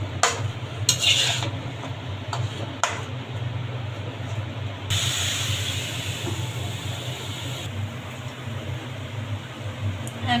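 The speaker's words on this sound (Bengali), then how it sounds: "এখন তরকারিটা আমি সুন্দর মতন নাড়াচাড়া দিয়ে ঢাকনা দিয়ে ঢেকে দেবো।" Curry stirred in a pan with a utensil scraping and clinking against the metal over a steady cooking hiss, followed by a lid set down to cover the pan.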